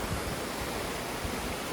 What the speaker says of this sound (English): it breaks into all those different waterfalls going down the hill